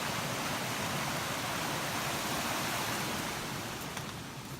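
Water rushes steadily through a limestone-filled channel on the Appalachian Trail, a constant broadband hiss close by that softens slightly near the end.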